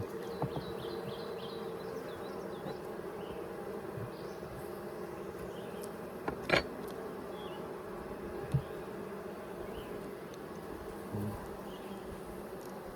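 Honey bees swarm in a dense, continuous buzzing drone during a Layens hive inspection, close and steady, with a few faint clicks and knocks from handling the frames.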